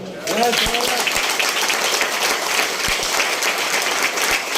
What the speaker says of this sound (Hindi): इतना ताली बजाओ, इतना ताली बजाओ